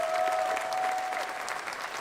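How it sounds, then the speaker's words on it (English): Steady, fairly close audience applause greeting a new Maryland men's basketball head coach on stage, continuous dense clapping with a faint tonal whine underneath. "Let's give him a round of applause."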